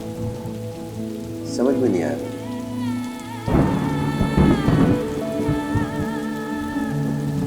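Heavy rain falls steadily with a loud thunder rumble breaking in about halfway through, while a person speaks briefly over the downpour and soft music tones sit underneath.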